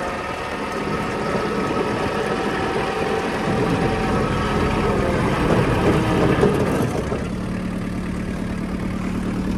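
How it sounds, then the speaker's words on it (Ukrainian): A Kubota GT-5 mini tractor engine idles steadily at close range, a continuous low rumble with mechanical vibration and a slight shift in tone near the end. "поставимо тракторець на місце та послухаємо роботу двигуна"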